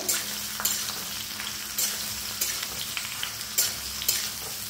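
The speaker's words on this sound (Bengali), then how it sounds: "এবারে তেলের সঙ্গে এই ফোড়নটা ভালো করে ভেজে নিয়ে এর মধ্যে দিতে হবে সেই কুলগুলো।" Panch phoron spices fry in hot oil, then jujube fruits join them in the pan; a continuous sizzle carries periodic scraping stirs, loud and close.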